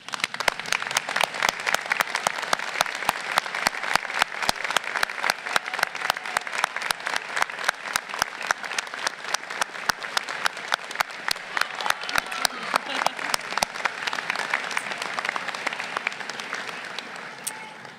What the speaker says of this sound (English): Degree candidates, will you now rise and join me in saluting and applauding those who have played such a critical